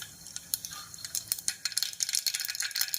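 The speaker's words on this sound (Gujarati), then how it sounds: "તો આપણે અડધી ચમચી એમાં રાઈ નાખીશું" Mustard seeds crackling in hot oil for a tempering, made while cooking a green chickpea curry; a dense run of sharp little pops and ticks, close and moderately loud, with no talk.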